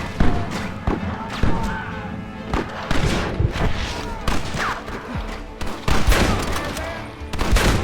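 Shootout gunfire in the video game Red Dead Redemption: rapid, overlapping shots cracking and popping at varied distances, dense bursts mixed with game sounds and voices.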